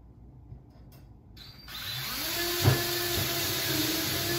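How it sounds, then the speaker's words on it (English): A power drill spins up and bores a hole through a board of wood for homemade PVC stilts, its motor rising into a steady loud whine with a brief bite as the bit cuts in. "So go ahead and drill your first hole."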